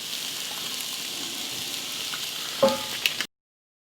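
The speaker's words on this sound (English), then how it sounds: "And you can hear that sizzling noise." Onions sizzle and crackle in a hot pan with a teaspoon of oil, a steady dense frying hiss with a couple of sharp pops near the end before it cuts off abruptly.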